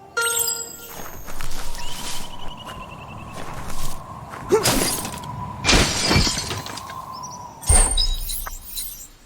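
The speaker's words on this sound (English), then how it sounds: "You shouldn't worry about smashing up the box" A box smashed apart in the video game Biomutant: several sharp, loud cracking and shattering bursts spaced a second or two apart, with lighter clatter and footstep-like knocks between them.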